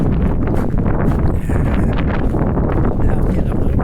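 Strong gusty wind roars against the microphone on a street walk through Halifax's North End, a loud, constant rumbling buffet with no letup.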